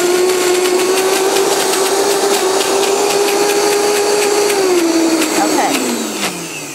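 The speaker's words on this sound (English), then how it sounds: "to show you that you can do great things with just a blender" An electric blender mixes a heart-healthy vegan chocolate dessert with a loud, steady whirring drone that holds for several seconds, then slows and winds down near the end.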